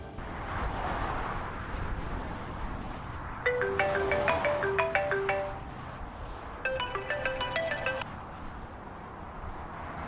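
A mobile phone rings for an incoming call, playing a melodic electronic tune in two separate bursts over a quiet indoor background.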